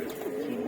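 A pigeon in a loft gives a single short, close, low coo.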